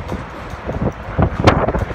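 Strong wind on a cold Calgary evening buffets the microphone in low, rumbling gusts, swelling and easing throughout with a sharper blast near the middle.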